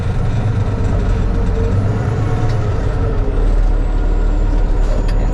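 A heavy farm truck hauling sugar beets moves forward with a continuous loud, low diesel rumble that stays steady and close throughout. No one speaks.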